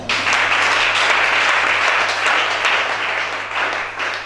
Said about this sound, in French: Acclamons chacun.